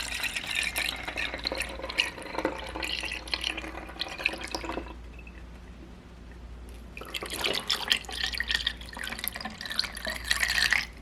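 Fragrance oil and liquid being poured into a 10-ounce room and linen spray bottle, a steady trickling pour broken by a short pause midway, then resuming, close and alone.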